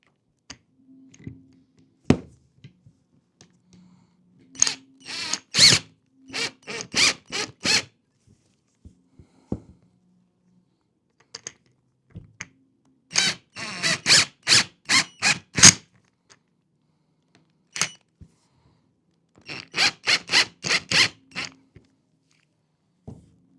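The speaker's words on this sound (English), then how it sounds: "Holes are already there. With Phillips screwdriver." A Phillips screwdriver drives screws into a lever-action rifle, giving three close bursts of rapid sharp clicks and ticks separated by quiet pauses, with scattered faint taps between them.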